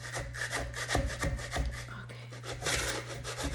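A dry square pottery bat being scraped diagonally, rough rasping strokes repeated in a quick uneven rhythm, close and fairly loud over a steady low hum, with no talk.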